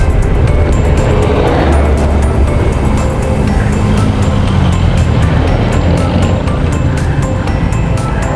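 Motorcycles pass on a road in a steady, loud, close stream of engine and tyre noise that holds without a break.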